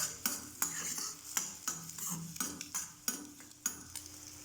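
An egg fries in oil in a frying pan while a utensil scrapes and taps against the pan, giving a series of sharp clicks over a soft sizzle.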